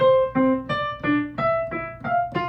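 Plucked mandolin notes alternate between a high note and its lower octave in a quick, even rhythm, the pattern stepping upward, bright and close.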